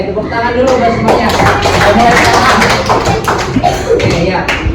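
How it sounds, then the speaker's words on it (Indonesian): A children's class claps together in loud, scattered applause, with voices chattering underneath throughout the burst. "tepuk tangan dulu buat semuanya"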